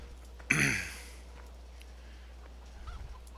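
Chickens in a farming video game give one short, loud squawk near the start, then fade into a quiet background.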